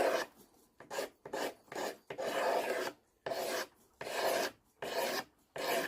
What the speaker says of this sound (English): So I'm just going to continue scraping it.